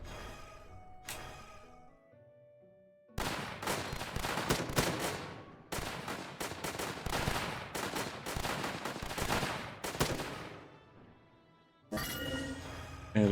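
Sniper rifle fire in a WW2 tower defense video game, loud rapid cracks and bursts in dense clusters after a quieter opening, pausing briefly and resuming near the end, with no one talking.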